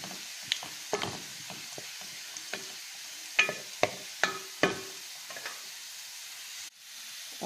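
Tomatoes are added to fish frying in a pan, giving a soft sizzle punctuated by several sharp clatters and scrapes at irregular intervals, with no speech.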